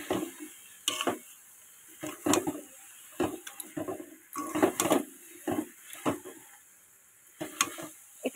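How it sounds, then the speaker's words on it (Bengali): Jujube pickle with sugar and jaggery is stirred in a pot, a series of short scraping, sticky stirring strokes at an irregular rhythm, close and fairly quiet against a faint steady hiss. "এবার এটা ভালো করে নাড়তে হবে"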